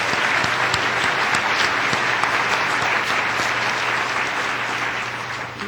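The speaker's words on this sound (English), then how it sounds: "Let's give Mark one more round of applause" A room of guests at a Rotary luncheon gives a round of applause, dense continuous clapping that stays loud and even before easing slightly at the end, with no voices.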